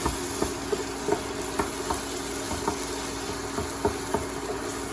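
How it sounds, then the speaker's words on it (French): An egg frying in a pan with its yolk broken and spread, giving a steady close sizzle broken by regular light taps and scrapes of a utensil, with no talk. "Alors je casse juste un jaune, je l'éparpille un peu partout."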